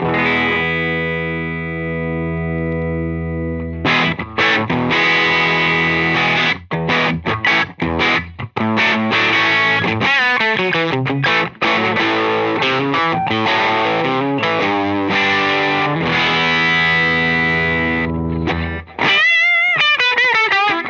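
An electric guitar plays through an amp boosted by a Spaceman Apollo VII pedal, giving loud, heavily driven tones. Long sustained chords give way to quick rhythmic stabs and a final ringing bend, with no talking.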